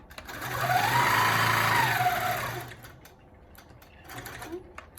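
Longarm quilting machine stitching along a ruler, a steady mechanical whir that runs loud for about two and a half seconds, then stops, leaving faint clicks and a brief quieter burst near the end.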